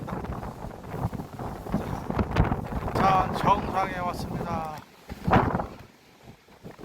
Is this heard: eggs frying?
no